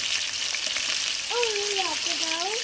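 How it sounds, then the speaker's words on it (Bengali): Meat sizzles steadily in a hot pan, seasoned with a little salt and turmeric, giving a continuous close hiss with a few faint whistling tones partway through. "এটাকে সুন্দর করে আমি ভেজে তুলে নেব"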